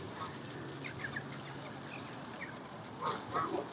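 Birds being fed at the Lough in Cork, a city pond with geese, swans and ducks; soft outdoor bird calls and wing flaps over steady ambient noise, with a couple of brighter calls near the end.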